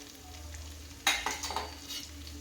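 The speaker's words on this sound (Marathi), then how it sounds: "चांगली परतून घ्यायची पेस्ट 1 मिनिटभर." Masala paste for chicken biryani sautés in a pan with a low background sizzle; midway, a few sharp stirring scrapes and bursts of spatter rise close and loud, then fade.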